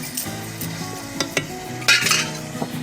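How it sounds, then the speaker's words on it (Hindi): Garam masala stirred into fried spice paste in a pan, a soft scraping sizzle with a few sharp clinks of spoon on metal, close and moderately loud, no talking. "पहले थोड़ा हम गरम मसाला डाल देते हैं और इसको इसमें अच्छे से चला देते हैं"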